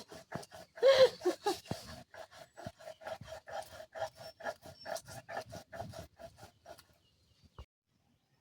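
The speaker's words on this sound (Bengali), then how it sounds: "ধনেটা বেটে নিয়েছি, এবার তুলে নেব।" Coriander is ground by hand on a stone in a village kitchen: a rhythmic series of scraping, rasping strokes, close and fairly quiet, slowing and stopping near the end.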